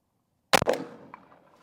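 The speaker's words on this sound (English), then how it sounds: "we're going to shoot one of the number 3 shot and see what that does" Umarex Primal 20 gauge airgun shotgun firing a load of number 3 shot: one loud, sharp report close by, followed by a brief rattling echo that fades within a second.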